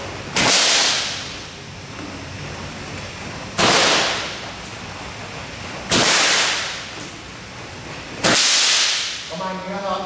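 A Shaolin whip struck from top to bottom in basic training drills, giving four loud, sharp cracks at roughly two-second intervals. Each crack fades into a brief hiss before the next, and a faint voice is heard at the end.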